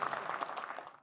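Applause from the audience at a Haryanvi New Year music evening, a steady wash of many hands clapping, moderately loud and fairly close, fading out at the end.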